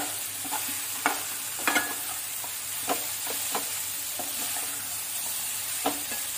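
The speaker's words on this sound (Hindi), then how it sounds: "अब हम इसमें डालेंगे फली, इनको भून लेंगे साथ में" Drumstick pods being roasted with masala in hot oil, a continuous sizzle and fry hiss broken by scraping spoon stirs and clinks against the pan, close and without speech.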